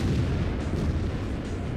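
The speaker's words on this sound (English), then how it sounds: "Trading shots on tanks, rotating health." Tank cannon fire in World of Tanks clan wars, a dense rumbling burst of booming shots and explosions that fill the whole short span, loud and continuous.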